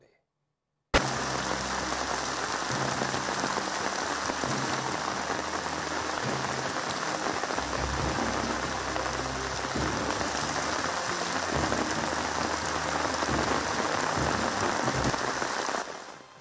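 Heavy rain pours during Bengaluru flooding, a steady, dense hiss of water that begins after a second of silence and runs unbroken at even loudness for about fifteen seconds.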